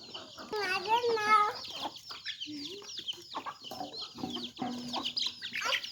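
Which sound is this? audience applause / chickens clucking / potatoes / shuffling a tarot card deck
chickens clucking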